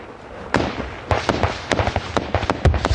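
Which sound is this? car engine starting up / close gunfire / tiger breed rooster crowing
close gunfire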